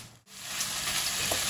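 Chicken momo stuffing fries in a pan with a loud, steady, close sizzle that starts after a brief pause and then hisses continuously.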